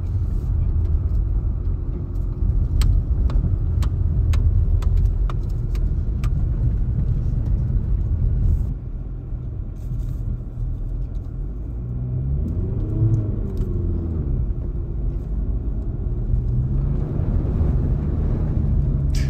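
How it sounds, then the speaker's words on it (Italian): A Cupra Formentor 4Drive on Hankook Winter i*cept evo3 tyres grinds up a snowy road with a steady, loud engine rumble. The tone shifts as the front wheels slip and the all-wheel drive cuts in, with no talk over it. "stavano slittando le ruote davanti e ha dato quella botta dietro che è entrata la trazione integrale"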